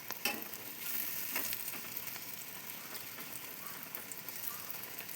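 Cabbage cutlets coated in semolina and flour frying in oil in a kadai, an even, rain-like sizzle with occasional crackles, moderately quiet and continuous.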